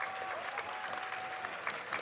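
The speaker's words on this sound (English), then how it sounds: "Crowd getting into it here as Italy down to their final strike" Fans at a baseball stadium during the Chinese Taipei versus Italy game applaud and cheer in a continuous, fairly distant wash of clapping, with faint voices in the crowd.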